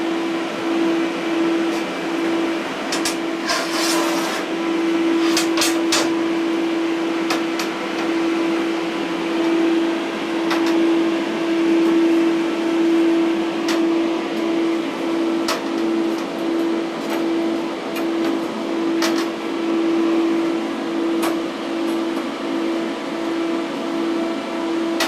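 Steady electrical hum and buzz from TIG welding copper with brazing rods while tacking a copper pyramid frame, loud and continuous with a few sharp crackles early on, no talking.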